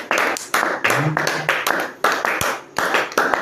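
A church congregation claps in unison, with sharp, evenly spaced beats about twice per second and a faint voice in the background.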